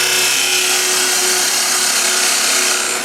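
A thin parting tool plunges straight into a squared-off wooden blank spinning on a lathe while turning napkin rings, giving a steady, loud, continuous hiss and shearing whir with no pauses and no voices.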